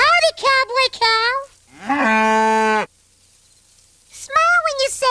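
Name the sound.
cow mooing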